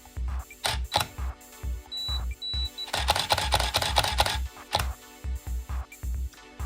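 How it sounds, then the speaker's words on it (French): Camera shutter clicking for a stop-motion animation shot, with several short mechanical clicks and a brief burst of denser mechanical noise partway through, heard close and alone. "tout ce que j'ai à faire c'est de prendre une photo"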